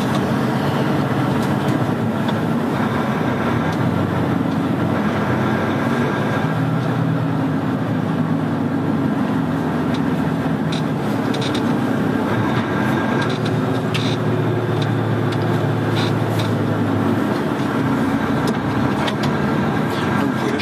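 A new tram on a test run rumbles and hums steadily along its track, a continuous loud mechanical drone from inside the vehicle with no talk heard.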